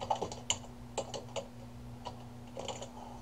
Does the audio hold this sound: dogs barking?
no